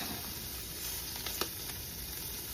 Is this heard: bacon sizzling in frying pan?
yes